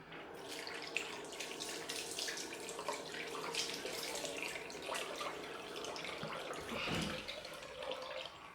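A double-edge safety razor, an Edwin Jagger DE89, is rinsed under a running bathroom tap, with water splashing steadily and a few clinks and knocks of the razor against the sink, quiet and close.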